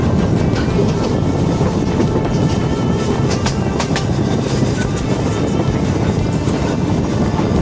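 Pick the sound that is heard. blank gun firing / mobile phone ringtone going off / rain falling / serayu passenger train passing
serayu passenger train passing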